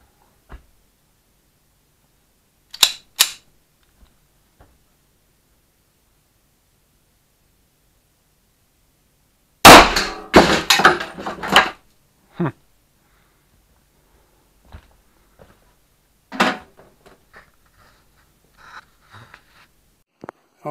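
A Tokarev pistol round strikes a homemade Kevlar 29 and titanium armor plate: one sharp, loud crack midway, followed by a brief burst of rattling and then scattered quieter bumps and clicks.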